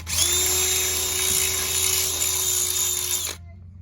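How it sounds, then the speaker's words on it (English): A power drill bores through thin aluminum while fitting a BMW quick-release mount, giving one loud, steady whine that lasts about three seconds and then stops abruptly. "What size drill bit is that"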